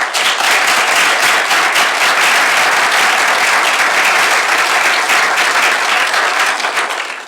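An audience at an evening lecture breaks into sustained applause to welcome a speaker, dense clapping from many hands, loud and steady throughout before tapering at the end.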